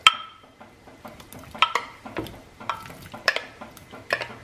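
A spoon stirs smoked turkey kielbasa and potato soup in a pot. The scrapes and clinks come close and intermittent, with soft liquid sloshing between the strokes and no talking.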